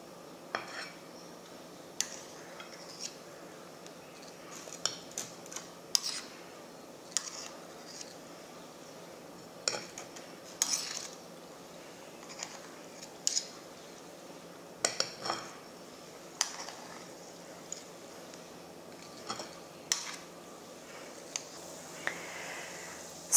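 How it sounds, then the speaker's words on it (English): Oiled spoons drop donut batter into a frying pan, giving scattered light metallic clinks and taps every second or so over a faint steady hiss of hot oil, close but quiet. "I'm taking my oiled spoons and I'm just going to place them into the pan."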